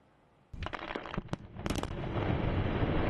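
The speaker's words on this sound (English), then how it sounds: "Controlled explosions at Ukrainian mines like these could be key to the country's survival." Controlled blast at a mine in Ukraine: a sudden sharp detonation followed by crackling bursts, then a rising, sustained heavy rumble of debris and rolling noise, loud and fairly distant.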